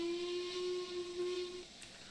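The steam whistle of a Black 5 locomotive in Train Simulator 2022 gives one steady, piercing toot lasting about a second and a half over a breathy hiss, then stops while the steam keeps hissing.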